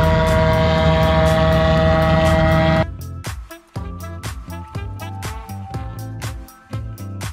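Grinding machine milling dried red chillies into powder: a loud, steady motor hum, then rhythmic heavy thumping as the mill runs, close and with no talking.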